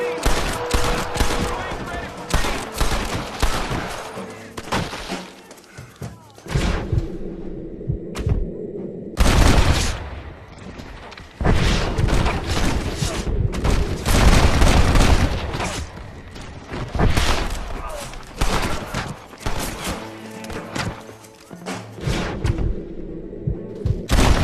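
Gunfire in the Xbox 360 video game Red Dead Redemption: loud, dense volleys and single sharp shots with booming thuds, coming in repeated bursts separated by brief lulls.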